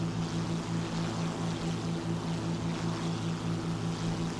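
The twin engines of a Bf 110 C-4 in War Thunder drone steadily, with a loud, pulsing propeller hum that holds an even rhythm throughout and has no voices over it.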